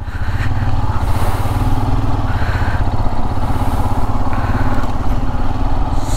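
A motorcycle ridden on a coastal road, its engine a loud, steady, close drone with rumbling wind noise throughout and no break in the sound.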